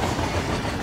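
A train rolls along its rails in the video game Hitman 3, a dense, steady rumble that stays loud and continuous throughout, with no talk.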